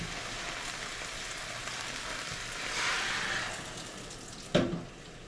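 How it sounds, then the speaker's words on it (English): Water poured into a hot cooking pot of okra seasoned with garlic salt, Goya and Creole seasoning gives a steady sizzle that swells midway, then a brief sharp splash near the end. "I'm going to add some water to that okra."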